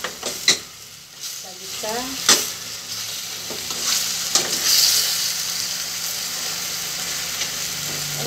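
Chicken curry is stirred in a sizzling pan, with a steady frying hiss and scattered scraping clicks of the spoon, a brief voice heard near the start.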